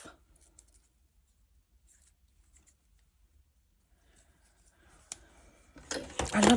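Scissors cut through paper for a junk journal: a long quiet lead-in, a single sharp snip, then a louder close burst of crisp snipping at the end.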